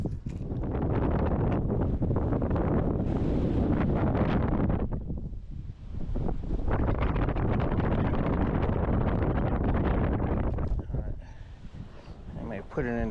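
Gusty wind buffets the microphone on a windy day of fishing, a loud continuous roar that swells and surges with a brief lull midway and a softer tail near the end.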